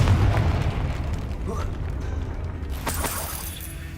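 A Confringo blasting spell from Hogwarts Legacy explodes with a booming, shattering burst late in the moment, following a rumbling low background and faint sweeping sounds, with a voice speaking over the game audio.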